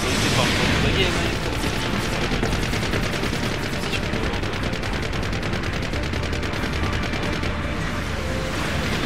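Dense machine gun fire in Gundam Breaker 3, a loud continuous rapid rattle lasting the whole stretch with explosive booms mixed in and no letup.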